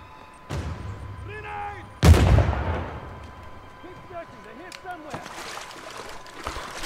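Gunfire in the video game Uncharted 4 during a fight with colonists at New Devon: one loud close blast stands out, with a fainter shot earlier and a few later, under intermittent speech.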